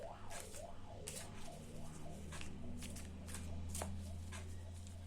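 Tarot cards being shuffled and drawn, a steady papery riffling with soft flicks and taps, close by, over a low hum.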